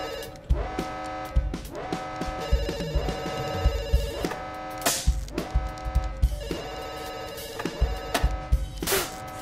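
A telephone bell rings in repeated bursts with short pauses in the game Dr. Langeskov, loud and close, with no talk over it.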